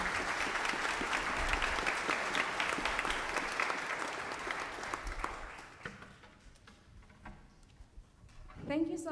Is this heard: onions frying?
no